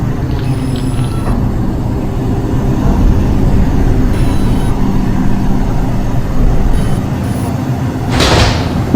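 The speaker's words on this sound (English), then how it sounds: "Stand clear of the closing doors, please." Doors of a Manhattan-bound R142 New York subway train closing at Van Siclen Avenue, a loud rumbling with thumps and a hiss over steady train noise.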